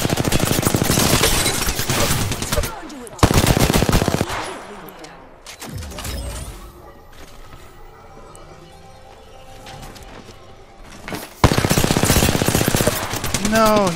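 Gunfire in a video game shootout: loud, rapid automatic bursts at the start and again near the end, separated by a quieter stretch of scattered shots and game noise.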